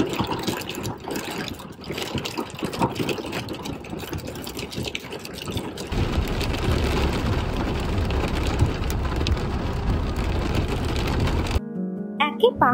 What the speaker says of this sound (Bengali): বৃষ্টির আওয়াজে হয়তো তোমরা শুনতে পাচ্ছ।